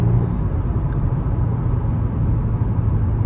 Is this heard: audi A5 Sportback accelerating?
yes